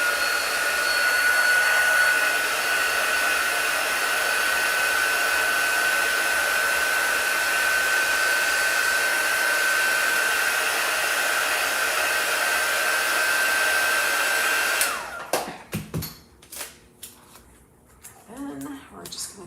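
A hair dryer blows steadily and loudly over a chalk drawing for about fifteen seconds with a constant whine, then cuts off, followed by quieter handling sounds.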